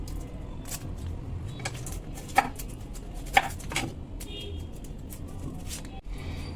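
Onions being cut with a knife in a home kitchen, a few sharp close chops and blade taps spread over a quiet background, with brief low voice sounds between.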